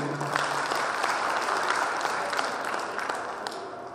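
An audience at an inauguration ceremony for a hometown association president gives sustained, dense applause that stays steady and then fades slightly, filling the room.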